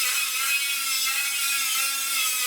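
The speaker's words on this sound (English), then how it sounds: "as you see, he's grinding on the panel there" A grinder works on a rusty car rear deck panel, producing a continuous, harsh, high-pitched abrasive whine, steady and fairly loud with no talking.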